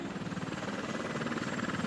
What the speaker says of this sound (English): The helicopters of the Kurdish army evacuate inhabitants of Iraqi and Syrian cities and villages.